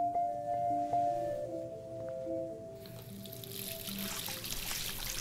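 Water runs from a faucet in the video game Life is Strange, a steady hissing rush that starts partway through and continues over soft background music.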